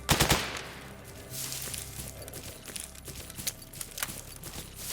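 Gunfire in the video game STALKER Anomaly comes in several short bursts of rapid shots. The shots sound faint and somewhat distant over a low background rumble.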